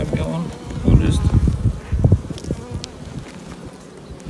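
Honey bees swarm around an open hive in a bee yard, giving a close, dense buzzing with individual insects zipping past the listener, under soft handling noises and people talking.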